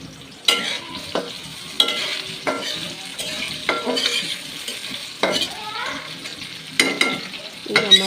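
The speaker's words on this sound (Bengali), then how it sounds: "পেঁয়াজ কুচি দিব মরিচ ফাড়ি এখন একটু মেরে ছেড়ে ভেজে নেব" Chopped onion and split chillies frying in a pan, a soft sizzle under repeated sharp stirring scrapes and clanks of a spatula against the pan, about a dozen irregular strokes, close by.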